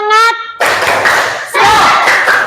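Elementary school pupils in a classroom perform the "tepuk semangat" clapping routine, with loud bursts of many hands clapping together in a rhythmic pattern after a short spoken call.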